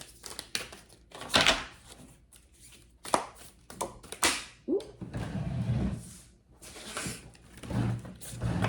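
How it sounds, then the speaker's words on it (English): A deck of tarot cards is shuffled by hand in a series of irregular, crisp riffling bursts and slaps, close and moderately loud with short pauses between. "This deck is kind of hard to shuffle."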